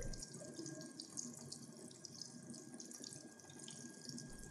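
Water runs steadily from an opened outlet while a Stuart Turner Flomate mains water boost pump is commissioned, a quiet, even hiss and trickle continuing with no speech.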